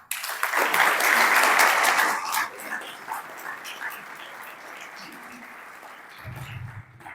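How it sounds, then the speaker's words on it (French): Audience applause at a book launch in Mauritius, loud and dense for the first two seconds, then thinning to scattered claps, with a dog barking and a voice briefly audible near the end. "Je crois qu'elle mérite les applaudissements."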